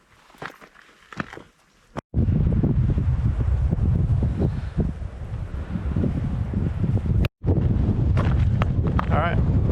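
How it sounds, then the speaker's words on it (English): Strong wind at a hilltop lookout in Cape Range National Park buffets the microphone with a loud, low rumbling roar, following a few quieter moments of footsteps and rustling, with a brief dropout near the end. "It's pretty windy"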